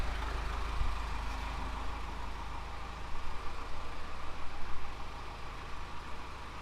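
A vintage bomber's piston engine running just after startup, a low steady rumbling drone that swells louder around the middle and then settles, heard with no talk over it.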